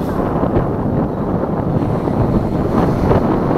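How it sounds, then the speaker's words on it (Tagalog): Strong typhoon wind roars loudly and steadily against the microphone in Navotas, a dense unbroken rumble with no voices. "palakas na ng palakas ang hangin"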